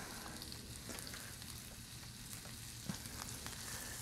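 Mushrooms and marinade sizzle on a Camp Chef FTG600 flat-top griddle outdoors at night, a steady, fairly quiet hiss of frying with one brief sharper pop near the end and no talking.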